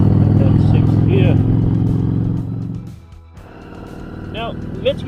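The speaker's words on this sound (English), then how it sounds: "release the clutch while rolling on the throttle, and then sixth gear" A motorcycle engine runs close and loud as the rider shifts up into sixth gear, with a brief dip in engine tone mid-shift before it pulls again. A voice talks over the engine throughout.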